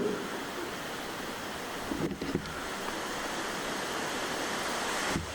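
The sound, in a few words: wind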